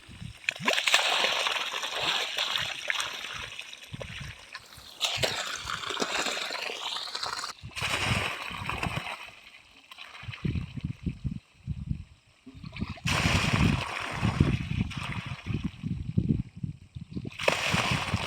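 Water gushes from a borewell pump into a farm field in the dry summer season, a loud, continuous splashing and sloshing close by that drops away briefly in a few short gaps before surging again.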